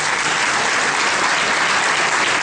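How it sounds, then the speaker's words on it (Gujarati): Steady applause from an audience fills the stretch at a constant, fairly loud level, dense clapping with no voices over it. "બધા તાળીઓથી વધાવવા વાળા."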